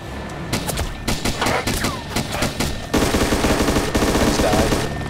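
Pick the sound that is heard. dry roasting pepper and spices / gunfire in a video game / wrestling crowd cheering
gunfire in a video game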